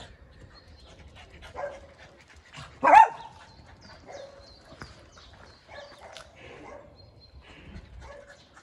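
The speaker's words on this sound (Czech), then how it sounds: "už si tady rozštěkala všechny pejsky od sousedů" Neighbours' dogs in a residential area barking at a distance, scattered faint woofs with one louder burst of barking near the middle.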